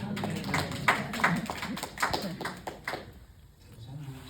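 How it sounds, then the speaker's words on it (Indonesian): Scattered, uneven hand claps from a church congregation applauding for Jesus during a sermon, sounding as distinct separate slaps that thin out toward the end rather than a full ovation. "Tepuk tangan buat Tuhan Yesus"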